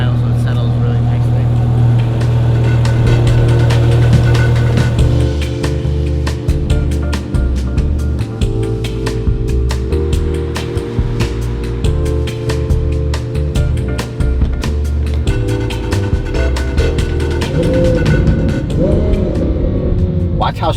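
A twin-turbo Lamborghini Huracan V10 idles: a loud, continuous low rumble with faint crackles running steadily throughout, close by.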